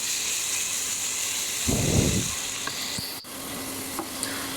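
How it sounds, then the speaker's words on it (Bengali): Soaked masala drops into onion and garlic frying in a pan, giving a brief burst of loud sizzling that fades into a steady background hiss, with faint clinks of stirring afterward. "মশলাটা দিয়ে দিলাম পেঁয়াজ কষানোর মধ্যে"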